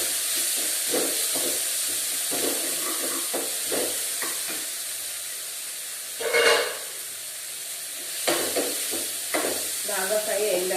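Potato curry sizzling and frying in a pan, a steady hiss with bursts of steam and intermittent stirring scrapes, with a brief louder flare of sizzle midway and a voice speaking near the end.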